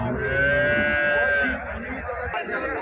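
A loud, long moo from cattle at the Karungalpalayam cattle market in Erode rises over the hum of the crowd, then fades into background chatter and market noise.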